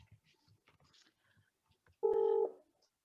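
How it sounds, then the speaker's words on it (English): A single short electronic phone tone, like a dialing or ringtone beep, cuts in clearly for about half a second during an online meeting, after faint, quiet background movement. "Oh, someone's phone."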